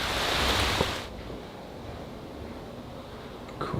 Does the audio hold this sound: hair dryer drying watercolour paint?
no